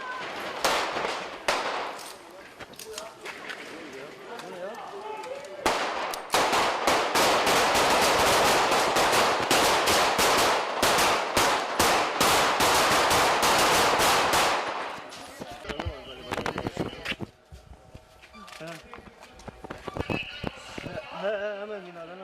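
Real gunfire from footage of an assassination: rapid machine-gun-style bursts rattle loudly for a long stretch, then thin into scattered single shots amid shouting voices.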